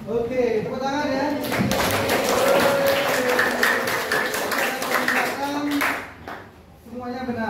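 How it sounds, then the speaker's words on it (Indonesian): A classroom full of students breaks into lively applause that lasts several seconds, loud and close, with voices talking over and around the clapping. "Oke, tepuk tangan ya."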